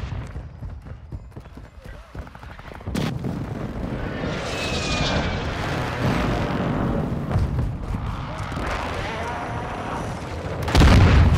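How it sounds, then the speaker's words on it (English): During a Call of Duty Modern Warfare II team deathmatch, a thrown grenade goes off with a heavy boom after a quieter stretch, followed by a long rumble of game action, aircraft-like roar and a second loud blast near the end. "Throwing grenade!"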